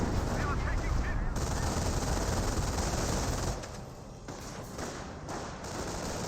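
Dense, continuous battle din of rifle and machine-gun fire in the Company of Heroes real-time strategy game, loud, rattling and overlapping throughout, with a voice commenting over it.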